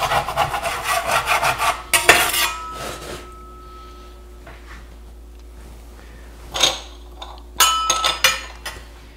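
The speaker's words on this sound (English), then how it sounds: "spatula, and we scrape all these little bits from the bacon." Spatula scraping bacon bits in a pan, producing close, gritty scraping strokes in a rapid cluster, then a quiet pause, then further bursts of scraping and clinks.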